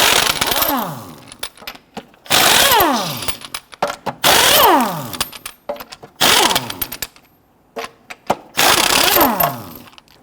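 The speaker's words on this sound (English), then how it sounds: "you gotta loosen and remove your lug nuts" Power tool with a 22mm socket spinning lug nuts off the front wheel of a 2006-2014 Honda Ridgeline, in five loud close bursts of whirring and rattling, each winding down, separated by short pauses and clicks.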